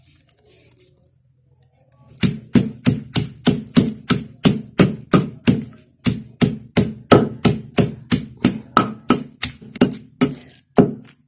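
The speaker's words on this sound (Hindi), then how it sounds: "जी तो आप देख सकते हैं चटनी को मैंने बारीक पीस लिया है।" Anardana chutney of pomegranate seeds, mint, coriander, cumin, black salt, red chilli and garlic pounded by hand: about twenty sharp, evenly spaced close thuds after a short quiet start.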